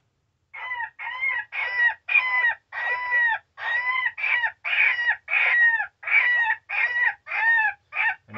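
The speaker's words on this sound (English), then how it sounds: "It's got a woodpecker wail." A Cass Creek Predator 2 electronic predator call plays its woodpecker wail: about fifteen shrill, nasal notes in an even, rapid series, loud and alone, with a click at the end.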